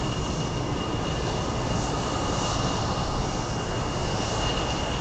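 A Cessna Grand Caravan turboprop at Anchorage airport, heard as a steady, moderately loud propeller and engine drone with a thin high tone running through it, continuous and unbroken with no talk.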